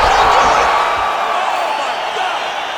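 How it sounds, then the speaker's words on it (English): A UFC 5 arena crowd roars and cheers loudly and continuously after a fight-ending strike, the sustained din slowly easing off, with commentary voices blended in. "Yeah, man, crowd loving it."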